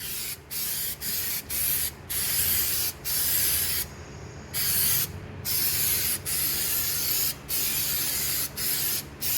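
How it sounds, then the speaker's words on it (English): Aerosol protective coating sprayed around welded fender edges on a Chevrolet C10 truck, heard as a series of close, loud hissing bursts of varying length separated by brief pauses. "So we're just going to be spraying it around the edges where we welded."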